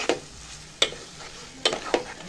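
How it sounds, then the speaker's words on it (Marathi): Kitchen King masala is sautéed in a pan for chicken keema, with four sharp spatula scrapes and knocks over a soft, close sizzle. "पुन्हा एकदा आपण आता हा परतवून घेणार आहे."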